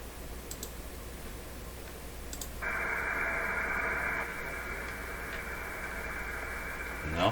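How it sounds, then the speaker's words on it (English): FT8 ham radio digital signal on a shortwave band, received through a Telefunken Salzburg 5094W console radio: a steady multi-tone warble switches on partway through and holds over a background of static hiss, with faint clicks earlier. "Now that sounds like FT8 right there"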